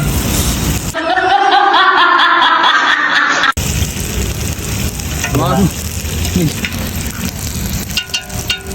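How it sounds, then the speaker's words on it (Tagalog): Garlic, onion and ginger fry in hot oil while being stirred for a tilapia paksiw, giving a loud, steady close sizzle with scraping strokes, and voices talk and laugh over it. "habang ginahalo ni Master Chef, yung bawang, sibuyas at saka luya ay nangangamoy na."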